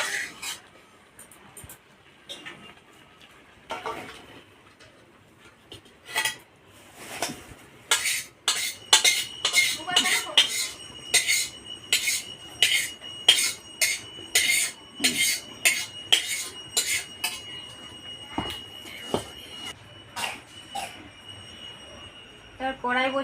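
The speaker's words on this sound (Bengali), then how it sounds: "এবার আমি ঢাকাটাকে খুলে নেব। দেওয়া হয়ে গেছে, এটাকে এবার নামিয়ে নেব।" A metal pot lid is lifted and the pot is taken off a home stove while cooking cabbage with shrimp, giving a run of sharp, close clinks and scrapes of metal cookware in a steady rhythm.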